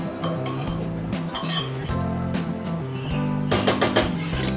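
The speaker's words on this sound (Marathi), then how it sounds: "या डाळी सुद्धा या फोडणीमध्ये आपल्याला व्यवस्थित मिक्स करून घ्यायच्या आहेत" Metal utensils clink and scrape against a pot as toor dal lentils are stirred into a tempering, with rapid repeated knocks and a faint background hum.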